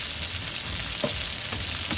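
Green beans stir-fry in a hot pan, giving a continuous close sizzle with a few soft scraping bumps from stirring and flipping, and no voices.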